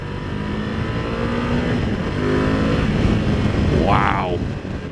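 Ducati Multistrada V2 motorcycle engine pulling steadily under acceleration on an open road, a continuous loud drone with rising pitch, with a brief whooshing swell near the end.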